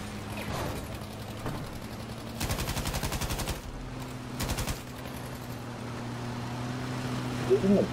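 Rapid automatic gunfire in a video game battle crackles in two bursts, a longer one and then a shorter one, over a low engine hum, with a voice briefly heard near the end.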